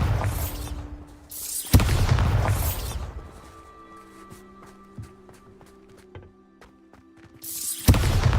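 The Bombarda explosion spell in Hogwarts Legacy goes off in loud booming blasts, first in quick succession, then again near the end, with quieter rumbling game ambience and footsteps in between.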